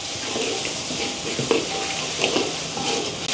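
Tomato paste being stirred and sautéed in a pan, a dense continuous sizzle with scraping and clinking of the spoon against the pan, close and fairly loud, no talking.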